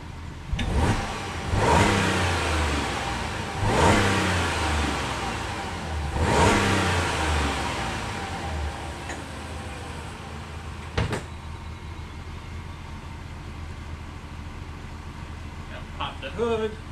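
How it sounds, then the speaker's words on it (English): A car engine revs up in several sharp bursts with dips in between, loud and close, then settles to a steady idle, with a short knock near the end. "Just a little recording with the rev up."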